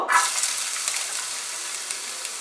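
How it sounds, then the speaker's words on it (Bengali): Chopped onion hits hot white oil in a wok with a sharp burst, then settles into a steady, close, bright sizzle that continues without talk. "তেলটা গরম হলে এর মধ্যে আমি দিয়ে দেব পেঁয়াজ কুচানো"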